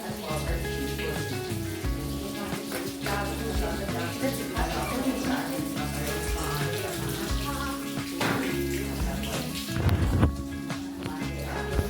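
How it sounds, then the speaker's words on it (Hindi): Steady rain pours down in a village, a dense continuous hiss and patter of water, with people chatting throughout over the downpour. "बारिश हो रही है"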